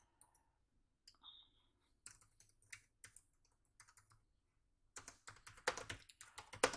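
Quiet keystrokes on a computer keyboard while code is typed, starting as sparse taps and turning into a quicker, louder run of clicks near the end.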